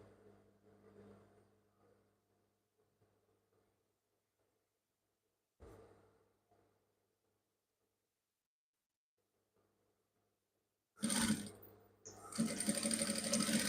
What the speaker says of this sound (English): then you continue your sewing all the way down